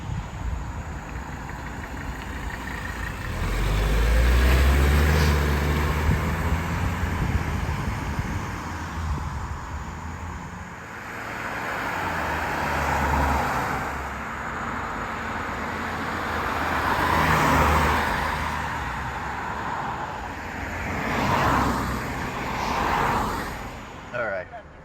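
A 1982 Mercedes-Benz 300TD diesel wagon approaches and rolls past on a road, its engine and tire noise swelling from the distance, peaking and fading, with a steady outdoor hum and a voice talking over parts of it.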